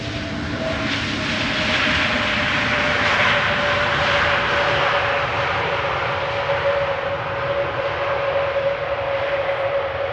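An airliner landing at Schiphol without thrust reversers gives a steady, moderately loud jet rumble with a sustained tonal whine, fading gently toward the end, with no voices.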